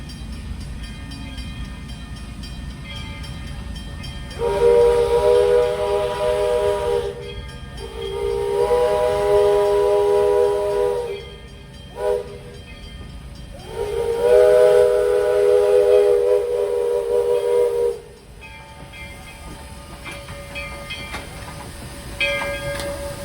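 A steam train's whistle sounds three long, loud blasts over a rumbling, hissing background of rail noise, with short gaps between each blast, at a railroad museum event.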